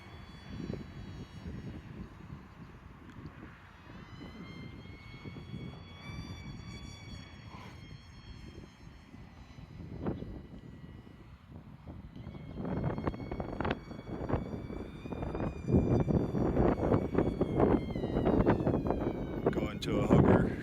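A small RC model airplane flies and climbs against the wind, its thin high-pitched electric motor whine rising and falling over heavy wind buffeting on the microphone, growing louder and rougher toward the end.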